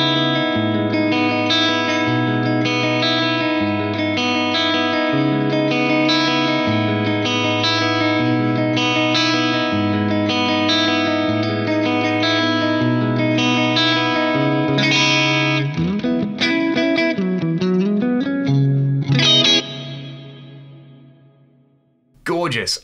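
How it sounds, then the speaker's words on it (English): Sustained electric guitar chords drenched in a large, effect-heavy reverb with long decay time, big room size and high wet mix, shimmering and washing together before a long tail rings out near the end. "Let's say I wanted more of a kind of effecty reverb. I would bring up the time, I would bring up the size, and I would bring up the mix."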